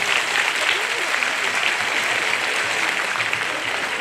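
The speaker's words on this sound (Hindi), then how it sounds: "जोरदार ताली बजाते हैं।" Congregation at a Catholic church golden jubilee Mass applauding, a dense continuous roar of clapping filling the hall, steady and fairly loud throughout.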